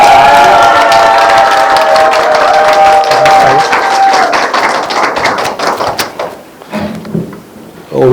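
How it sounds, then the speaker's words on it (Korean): An audience at a festival lecture breaks into applause and cheering to welcome a speaker, with dense clapping and a whistle-like tone early on that thins out into scattered claps toward the end. "지금 이거에 한 10배로 큰 박수로 맞이해 주시기 바랍니다"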